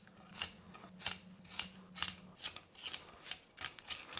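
Broccoli florets are cut from the stem with a knife, giving a quiet series of crisp, regular snaps and cuts roughly every half second, close by with faint background hum and no talk.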